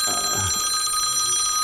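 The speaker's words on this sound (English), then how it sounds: "that's my phone, I forgot to shut it off." A mobile phone in a pocket rings continuously with a bright, repeating electronic tone, loud and near, and a brief low rustle at the start.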